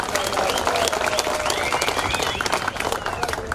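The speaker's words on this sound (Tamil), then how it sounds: "அதனால அவருக்கு ஒரு பெரிய கரகோஷத்தை கொடுங்க." Crowd applause at a rally-style protest demonstration, loud and continuous clapping from many people with sharp individual claps, cheers and voices mixed in throughout.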